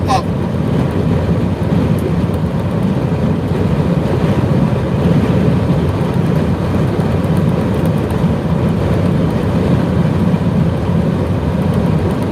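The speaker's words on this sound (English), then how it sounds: "Man, the wind is kicking." Strong wind buffets the microphone outdoors, a loud, continuous low roar and rumble that surges and eases slightly and never pauses.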